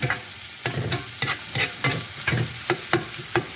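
A metal spatula chops turkey and melting cheese on a hot griddle, a steady rhythm of sharp scraping taps over a soft, continuous sizzle, close and clear.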